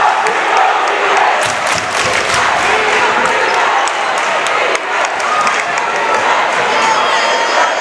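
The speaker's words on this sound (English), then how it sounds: "Now the student sections start to come alive. Both schools with a great crowd here today" A student section crowd cheers at a high school boys' varsity basketball game, a loud sustained roar with sharp claps and shouts and squeaking sneakers throughout.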